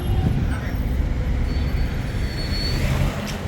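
Loud, continuous low rumble of a metro train passing close by near Masjid al-Haram in Mecca, with outdoor street noise around it and no talk, the roar steady throughout before easing slightly at the end.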